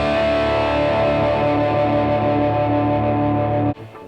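Electric guitar through a hand-built Tube Driver clone overdrive pedal with its bias switch turned fully the other way, a loud distorted chord ringing steadily for several seconds before being cut off near the end, played alone.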